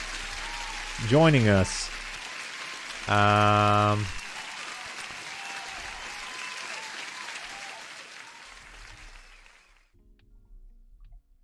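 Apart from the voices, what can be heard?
applause sound effect for a new subscriber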